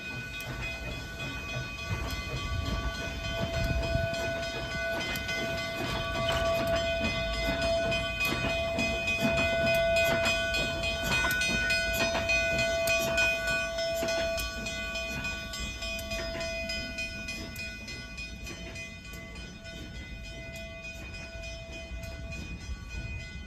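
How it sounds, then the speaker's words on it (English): A K-28 steam locomotive built by the American Locomotive Company in 1923 rolls past on the Durango & Silverton line, a loud sustained rumble of wheels and cars with clattering rail clicks and a lingering whistle-like tone. "Here's that same train passing by,"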